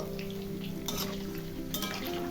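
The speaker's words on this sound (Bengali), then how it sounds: "এভাবে খুন্তি দিয়ে একটু নেড়ে দেব।" Palm fritters fry in hot oil with a continuous bubbling sizzle, as a spatula stirs them in two distinct scraping bursts against the pan.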